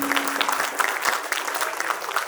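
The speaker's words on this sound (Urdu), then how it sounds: "ایک مرتبہ دوبارہ تالیاں" An audience at an award ceremony for a lifetime achievement honour claps loudly and continuously, a dense patter of many hands close by.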